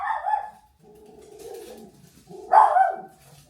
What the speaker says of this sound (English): my dog always barks when somebody's delivering something